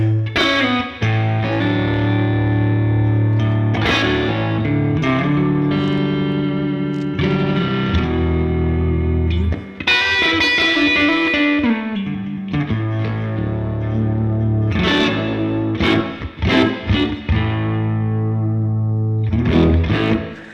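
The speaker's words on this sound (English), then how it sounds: "So they are the sounds from the front humbucker." An electric guitar through its front humbucker pickup, series wired, plays a warm, thick, slightly distorted riff with chords and single notes, dark and full-bodied, with no voices.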